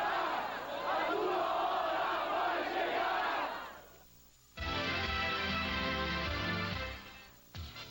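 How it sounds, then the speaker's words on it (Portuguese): Internacional football fans leave the stadium chanting and shouting together in a loud, echoing crowd roar, which drops briefly and then returns as sustained group singing. "A torcida colorada deixou o estádio animada e confiante, provocando o Grêmio"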